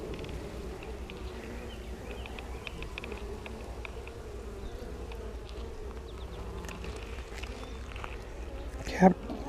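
Honeybees buzz in a steady, moderate drone during an open hive inspection, continuous and close, with a short knock or handling noise near the end.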